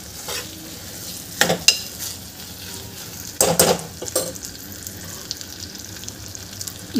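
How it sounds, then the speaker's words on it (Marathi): Water poured into rice that has been sautéed in a pan over high heat for tondli bhat (ivy gourd rice): a few brief splashing bursts and stirring over a soft, steady sizzle, with no talking. "आता यामध्ये आपण पाणी घालून घ्यायचं आहे."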